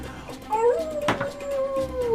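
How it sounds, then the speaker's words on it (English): A wolf howl sound effect played during a tabletop fantasy role-playing game, rising and sliding in pitch over a couple of seconds with a noisy burst in the middle, fairly loud against background room sound. "just this howl as a wolf starts charging towards you."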